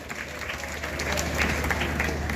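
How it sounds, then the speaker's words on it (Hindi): Applause rises from the audience at a college annual function and award ceremony, honoring the chairman; dense steady clapping builds slightly and continues throughout over a low hum. "एक बार जोरदार तालियां हमारे चेयरमैन सर के लिए।"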